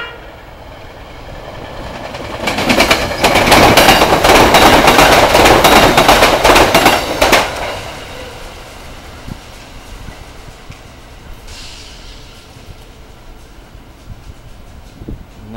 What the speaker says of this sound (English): Another deadhead train, probably.